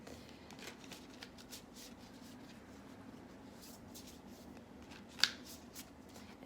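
Tarot cards shuffled by hand produce a string of quiet, rapid riffles and soft slides with one sharp snap near the end, close and faint against a low room hum.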